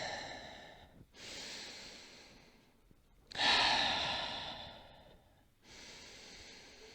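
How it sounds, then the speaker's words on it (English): Slow, deep breathing while holding a yoga forward fold: long drawn inhales and exhales with brief gaps between, close and soft, a heavier breath in the middle, no talking. "Take deep breaths."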